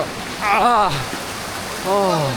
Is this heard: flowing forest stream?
yes